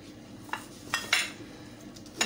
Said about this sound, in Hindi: वन पिंच नमक डालूंगी मैं, इसको हम करेंगे मिक्स।